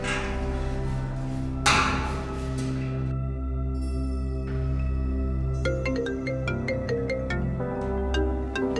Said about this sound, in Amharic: እናቴ ስልክሽ ጠራ።